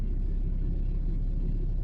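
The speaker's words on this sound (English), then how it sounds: "that's a truck." A truck idles close by with a steady low engine rumble, pulling up and parking during a rainy night of car camping by a trail sign.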